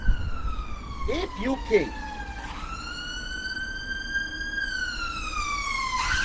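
A UK ambulance siren wails in a steady, sweeping electronic tone, holding and slowly shifting pitch throughout, with a brief burst of speech near the start.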